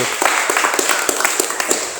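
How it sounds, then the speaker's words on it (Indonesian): Classroom students clapping together in a short burst of applause, rapid overlapping claps heard up close for about two seconds. "tepuk tangan dulu"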